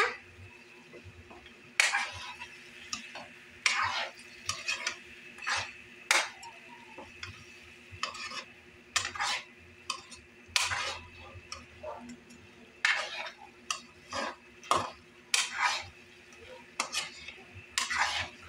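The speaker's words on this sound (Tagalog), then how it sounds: "Haluin mo." A spoon stirs adobo with potatoes in a cooking pot, giving quiet, irregular clinks and scrapes of metal against the pot over a low steady hum.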